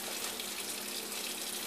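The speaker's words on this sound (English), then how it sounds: "So I'm finna turn on the water." Kitchen faucet pouring water into a bowl for washing shrimp, a steady, even hiss of running water, soft and continuous with no talk.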